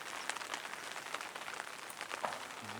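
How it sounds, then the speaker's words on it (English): Steady outdoor rain patters across surfaces at a low, even level, a continuous wash of fine drops with no talking. "Kitties don't like the rain, Ash."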